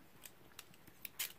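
Scissors cut a scalloped edge for a popsicle craft: a few quiet, crisp snips spaced apart, ending in a slightly louder cut.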